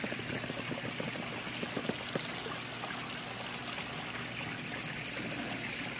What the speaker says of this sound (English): That's a pretty heavy duty stream that splits and goes down two separate